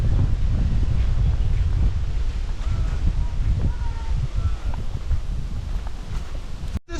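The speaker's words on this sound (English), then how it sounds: "So windy." Strong wind buffets the microphone in a steady low roar throughout, cutting off abruptly near the end.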